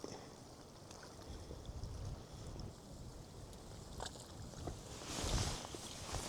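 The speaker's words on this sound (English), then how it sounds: "the wind chilled out for a minute and it's definitely picked back up" Wind gusts across a fishing boat out on the water, a steady rushing buffet with a stronger surge near the end, and faint knocks and creaks from the boat beneath it.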